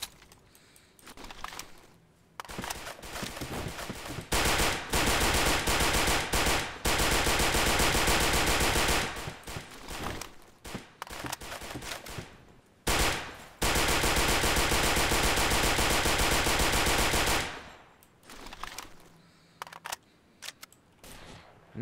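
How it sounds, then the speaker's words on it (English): An M3 grease gun fires in Garry's Mod, loud close automatic bursts of varying length separated by short pauses, with no talking. "Next is the M1 grease gun. Or M3, pardon me."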